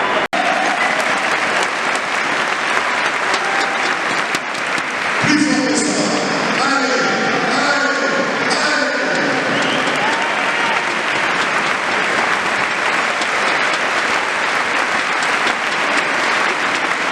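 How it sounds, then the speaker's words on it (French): A crowd applauds the winners of a cesta punta final, with loud, sustained clapping and cheering throughout. A burst of whistles, shouts and voices rises in the middle over the steady clapping. "Un tonnerre d'applaudissements pour les vainqueurs"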